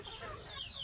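Native chickens cluck softly and continuously in a brief, quiet burst, with a faint murmur of voices beneath.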